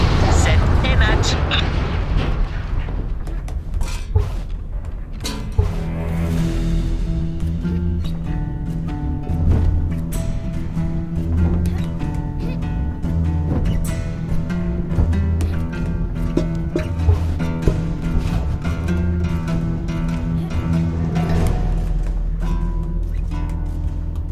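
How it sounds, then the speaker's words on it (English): An explosion in the video game Tchia: a broad blast swells about five seconds in and is followed by a sustained, dense rumble that stays loud and layered with tonal game sound for the rest of the stretch. "Une dernière explosion et ce truc est grillé."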